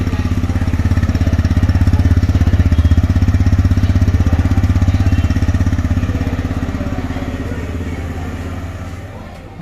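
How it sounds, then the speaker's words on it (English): A 2022 TVS Raider 125 motorcycle idles, its exhaust giving a rapid, even, bassy thump, loud and close, fading slightly toward the end. "The exhaust note is so punchy and bassy."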